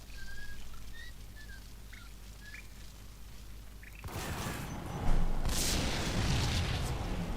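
In the video game Max Payne, a sudden heavy blast blows a door off midway, a loud burst of rumbling noise that lingers, after a quieter stretch with faint chirping tones.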